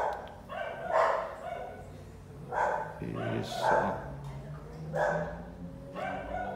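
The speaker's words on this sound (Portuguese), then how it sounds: "Novamente a cachorrada acordou" Several dogs bark in the distance in short repeated bursts while someone talks close by in a room.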